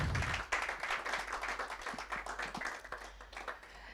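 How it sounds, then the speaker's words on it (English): A conference audience claps in a moderate, fairly close burst of applause that tapers gradually into scattered, individual claps. "So let's give it a round of applause,"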